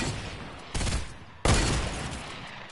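Gunfire in a video game, two sharp loud bursts of shots about a second apart over a steady noisy background, with no talk.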